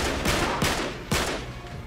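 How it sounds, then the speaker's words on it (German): Gunfire in the video game Uncharted 3: three sharp, loud shots spaced roughly half a second apart, each with a reverberant tail, over a steady game background with no voices. "Ah, ich schieße einfach."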